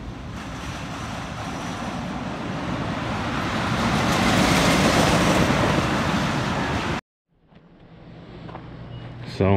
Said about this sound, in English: how noisy that can get when the train car is coming by on the edge of the campgrounds.